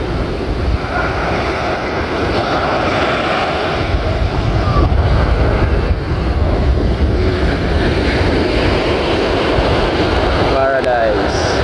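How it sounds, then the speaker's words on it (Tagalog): Steady roar of strong morning wind buffeting the microphone over crashing surf at White Bay, loud and continuous throughout. "malakas nga po yung hangin at saka po yung alon"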